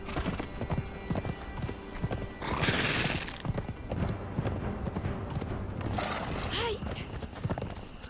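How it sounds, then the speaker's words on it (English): A horse in the video game Conan Exiles trots along with rhythmic clip-clopping hooves that carry on steadily throughout, and a whinny is heard partway through. "Jump back on the horse."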